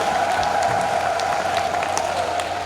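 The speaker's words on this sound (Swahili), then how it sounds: "makofi mengi sana na vigelegele kwa Yesu Kristo" Church congregation in a parish praise moment, a dense, steady wash of clapping and cheering from many people, loud and continuous throughout with high ululating tones riding over it.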